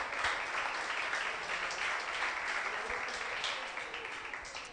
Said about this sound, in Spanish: Ahora un aplauso a Cristo